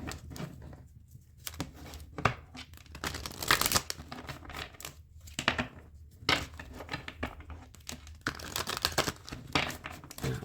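Tarot cards are handled and shuffled up close: quick papery riffles, slides and soft taps in irregular bursts over about ten seconds, with no voice.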